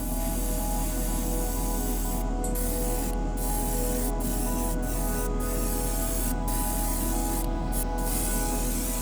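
A hiss of Mr. Surfacer Grey primer sprayed onto a Bandai Tie Striker model kit's interior parts, a steady aerosol rush that runs unbroken for the whole stretch at moderate level.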